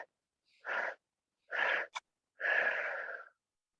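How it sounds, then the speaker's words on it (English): Three long, breathy inhalations drawn in deeply and close, each a rasping wheeze-like pull separated by silence, with a brief catch between the second and third. "So breathe in."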